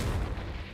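A Confringo explosive spell cast in Hogwarts Legacy, a short low booming burst that rumbles briefly and fades, heard alone without talk.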